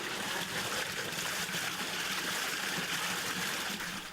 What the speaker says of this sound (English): Michael Woodhouse built this water wheel in his garden so he could enjoy his retirement listening to the trickle of water